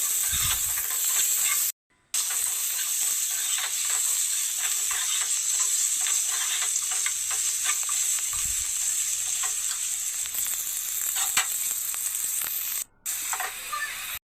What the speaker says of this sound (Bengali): আমি আলুগুলো হালকা করে ভেজে নিব